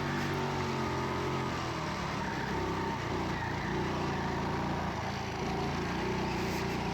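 High-power go-kart engine droning steadily around an indoor track, a continuous loud buzzing roar with slight pitch shifts, heard close throughout without speech.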